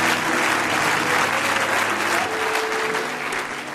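A church congregation cheers and applauds loudly during a worship service, a dense roar of clapping and voices that holds steady and eases slightly toward the end.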